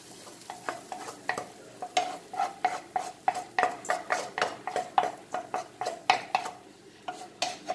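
Potato being stirred into a very hot pan for aloo paratha filling, a spoon scraping in steady repeated strokes with light frying sizzle underneath, close and clear, no talking.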